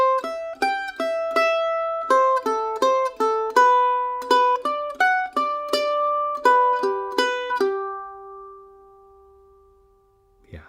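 Mandolin picking a Nordic folk waltz melody, Silkesvalsen, as a repeating sequence starting from different scale positions, crisp plucked notes in a steady triple rhythm, close and alone, ending on a long ringing note.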